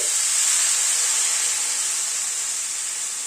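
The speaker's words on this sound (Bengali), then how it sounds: "এবার গরম জল অ্যাড করে দিচ্ছি।" Hot water poured into a pan of cooking cauliflower curry gives a loud, steady steaming hiss that holds for several seconds and fades slightly toward the end, with no voices.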